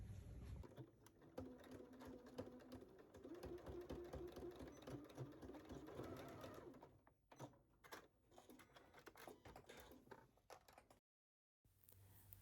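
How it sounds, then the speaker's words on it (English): A sewing machine stitching a seam at 5/8 inch on fabric, a steady rapid whirring run for about seven seconds, then shorter stop-start bursts and a brief silence, close and quiet. "We're going to sew this at 5/8 at our sewing machine and then trim it."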